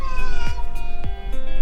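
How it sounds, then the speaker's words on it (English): An angry cat yowls loudly and continuously inside a car on a road trip, giving drawn-out caterwauling wails over a low, steady road rumble. "the cat is really pissed off"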